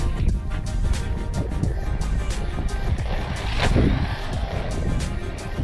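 A small RC car, a Hospeed Blackhole or Arrma Granite Grom, buzzes along with a thin, raspy motor whine over a steady crunch of rough ground, close and continuous.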